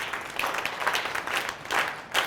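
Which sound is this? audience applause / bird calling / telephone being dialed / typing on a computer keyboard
audience applause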